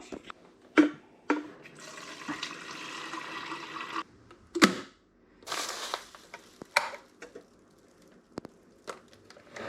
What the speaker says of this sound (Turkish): Şimdi kettle'a su ısıtalım.